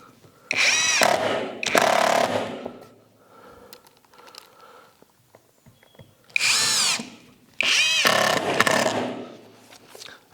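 A power drill drives two screws into a wooden router template for access panels, two pairs of loud whirring bursts each ramping up in pitch, with quiet handling sounds between them.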